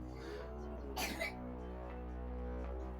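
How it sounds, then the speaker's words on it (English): A short cough breaks out faintly in the background over a steady low hum, a brief burst and then quiet again. "that's just my little one coughing in the background"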